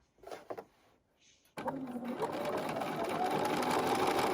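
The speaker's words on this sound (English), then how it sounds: "I am going to sew just inside the line" A sewing machine runs steadily, stitching fabric cut on the bias just inside a marked line for half square triangles. A few soft handling knocks come first, then the motor hum starts abruptly and continues loud and even to the end.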